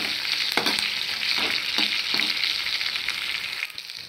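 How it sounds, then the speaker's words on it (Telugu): Red chillies, curry leaves and tempering seeds frying in hot oil, a loud steady sizzle close by, broken by several light stirring scrapes and clinks, with no talking. "మిరపకాయలు, కరివేపాకు వేసిన తాలింపులు బాగా వేగిపోయినాయి"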